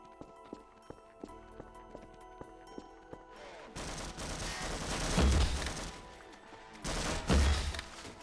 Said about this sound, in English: But the Tau cannon works in a pinch.